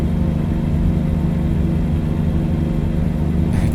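A Volvo truck in American Truck Simulator drones with a steady, loud low engine and exhaust rumble that holds an even pitch throughout, with no talk over it.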